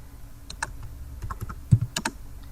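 Keys tapped on a computer keyboard in short irregular bursts of clicks, close and fairly quiet, with one heavier keystroke standing out among the soft taps.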